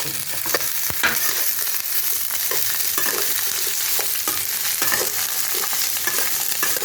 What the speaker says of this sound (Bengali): এখন আমি এই ফুলকপিগুলো তেলের মধ্যে ছেড়ে দিচ্ছি, ভালো করে ভেজে নেবো নিয়ে।